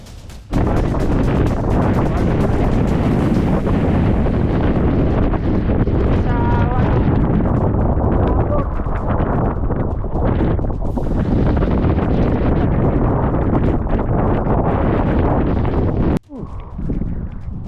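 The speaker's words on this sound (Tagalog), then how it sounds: "May hangin nga kusog na medyo mura kag matulak." Strong wind on Mt. Pulag in stormy, rainy weather buffets the microphone in a loud, continuous roar, with occasional bumps and gusts.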